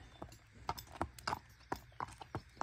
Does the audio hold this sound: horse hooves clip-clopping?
yes